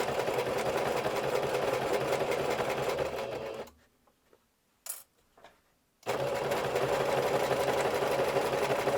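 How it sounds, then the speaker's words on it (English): A sewing machine stitches darts for a summer outfit at its smallest stitch length, running in a steady loud whir that stops for a couple of seconds with a few small clicks before the motor starts again and runs on. "Now let's sew the darts."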